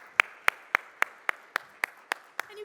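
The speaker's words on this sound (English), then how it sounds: "Please give a round of applause" Audience at a business investment conference clapping: about ten sharp, evenly spaced claps in a steady rhythm, fairly faint and close, like a few people applauding.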